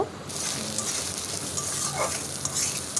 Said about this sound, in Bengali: কড়াইতে এই মশলাটা দিয়ে দেবো দিয়ে বেশ কিছুক্ষণ কষাবো